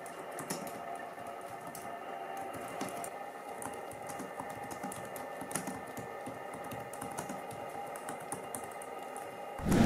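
Rapid typing on a Lenovo Legion Slim 7 laptop keyboard, steady clicky keystrokes close up throughout, with a brief louder rustle at the very end.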